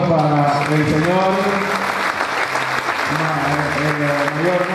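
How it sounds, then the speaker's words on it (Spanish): A crowd applauds at a transition ceremony for auxiliary mayors in Chipiacul, clapping steadily throughout while a voice speaks over it on a loudspeaker. "Un fuerte aplauso para el señor"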